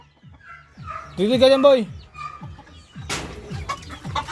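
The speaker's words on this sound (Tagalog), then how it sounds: "Lumabas na naman yung manok" A neighbour's chicken clucking in a yard, a string of short rhythmic clucks close by, with one louder drawn-out squawk in the middle, while someone talks briefly over it.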